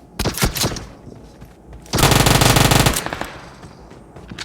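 Video game gunfire in a Godzilla-themed shooter: a few sharp, loud shots open, then a dense machine-gun burst rattles for about a second before fading into ambient game noise.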